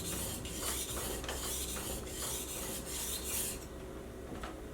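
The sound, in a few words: knife strokes on a sharpening stone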